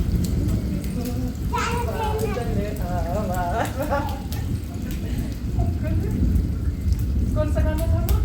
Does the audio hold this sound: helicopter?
no